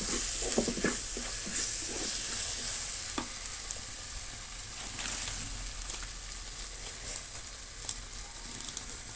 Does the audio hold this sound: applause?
no